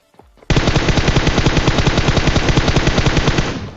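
Automatic gunfire in a mobile shooter game, likely PUBG Mobile: one loud, dense burst of rapid shots that runs unbroken for about three seconds and then fades out.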